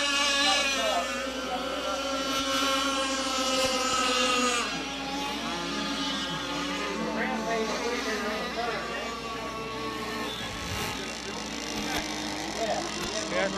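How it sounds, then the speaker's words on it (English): Offshore racing powerboats, including a white and red Laser 45, roar past during an open offshore race heat, a dense continuous engine drone with shifting tones, loud and steady throughout. "Eric List has got the white and red Laser 45, so he managed to catch up to the Rampage and Ivan Boatworks boat and lap him."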